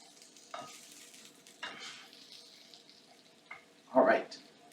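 Vinaigrette hitting a hot pan and stirred, giving short bursts of sizzling and scraping, four separate spurts with the last one loudest, close up in a quiet kitchen.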